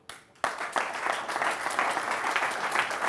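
An audience at a seminar bursts into applause after a brief quiet moment, sustained dense clapping that fills the room for the rest of the clip.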